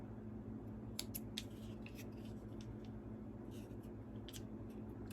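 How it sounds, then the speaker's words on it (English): Scissors snip notches into the top and bottom centers of fabric wallet pieces, a few quick close clicks and cuts over a quiet steady background hum. "I'm going to find the centers and snip my centers top and bottom."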